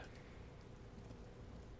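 Rain falls in the video game Disco Elysium, a faint, continuous, even hiss of rainfall with no voices.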